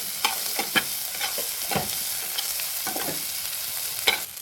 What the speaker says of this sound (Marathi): थोडासा कांदा लसूण मसाला टाकूया आपण.